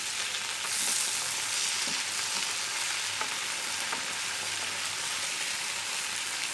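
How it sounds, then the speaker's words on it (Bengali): Hilsa fish fries in mustard oil with a dense, even sizzle and crackle, close up, joined by a few faint utensil taps and no voices. "আমি ভর্তা করব বিদায় সরিষার তেল দিয়ে ভাজছি।"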